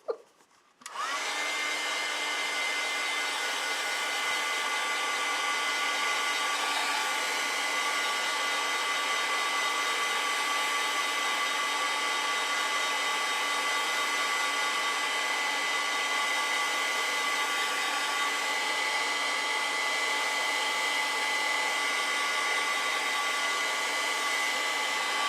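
A hair dryer blows steadily on wet acrylic paint, switching on after a brief quiet moment and then running as a loud, continuous whirring rush with a faint whine for the rest of the time.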